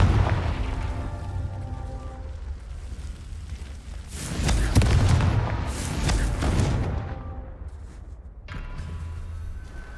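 Confringo blasting spells go off in a wizard video game as a run of heavy, booming explosions with crackling tails, swelling loudest midway over a steady rumbling background.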